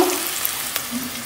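Chopped onions sauté in a hot pan, a close, steady sizzle with a couple of light scraping stirs, brief and fairly loud, no talking.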